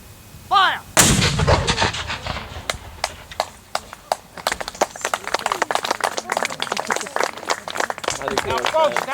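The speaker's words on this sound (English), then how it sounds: "Now, folks, the gun is loaded, ready to fire." A Civil War artillery cannon fires a small powder charge at a living history event at Gettysburg: one loud, booming blast after a spoken command, followed by crowd applause and scattered claps.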